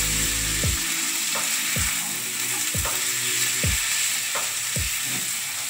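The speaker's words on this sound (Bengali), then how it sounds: "সবজিগুলো দিয়ে ভালো করে ভেজে নিতে হবে।" Vegetables fry in a pan for a vegetarian flattened-rice pulao: a loud, steady sizzle broken by regular spatula scrapes about every second.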